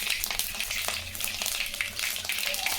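Mustard seeds and dried red chillies hitting hot oil for hotel-style tiffin sambar, a loud, close, dense crackling sizzle with rapid pops that runs unbroken throughout, nobody talking.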